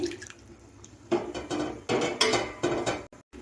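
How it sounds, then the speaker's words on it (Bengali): Water is poured from a cup into a pan of sautéed chicken for a spicy jhal fry, arriving in several short splashing bursts that stop abruptly near the end. "এখন জল দিয়ে দিচ্ছি"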